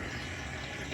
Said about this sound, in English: you hear my pump over there sucking the bottom of the hose, or the bottom of the tank